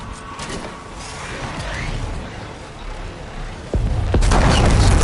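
A dropped bomb detonates in Horizon Forbidden West: a sharp crack, then a loud rumbling boom over steady background game noise.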